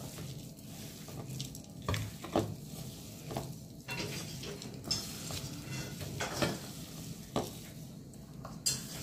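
A spoon stirs a sticky peanut and jaggery ladoo mixture with cardamom powder in a bowl, making uneven scraping and light clinking strokes, close and fairly quiet, with no talk.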